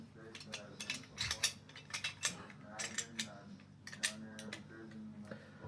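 Metal parts of an M1 Carbine bolt clicking and scraping together as the rifle is disassembled by hand, with a run of small close ratcheting clicks and taps, fairly quiet, and no talking.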